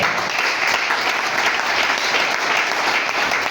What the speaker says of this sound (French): On peut acclamer le Seigneur.